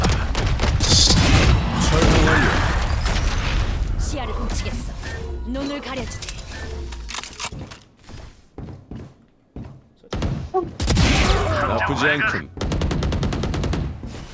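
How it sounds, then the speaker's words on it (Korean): Missile volleys launched in a video game battle, loud bursts of rapid firing and heavy thuds, a brief quiet gap, then another intense barrage, with voices talking over it. "모든 미사일 발사."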